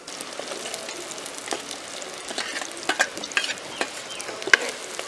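Fish frying in a pan during a traditional village cooking session, a steady crackling sizzle with scattered sharper pops and stirring sounds, close and continuous with no talk.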